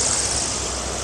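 An airplane flies over a grassy field, heard as a steady broadband roar of engine and wind with no other sounds, continuous and fairly loud throughout the brief moment.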